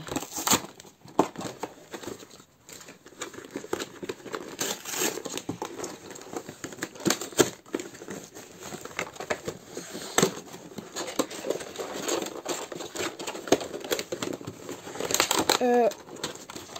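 Plastic wrapping torn off Pokémon card booster boxes, a Galarian Ponyta V collection: close, continuous crinkling and crackling with sharp tearing bursts throughout, no talking.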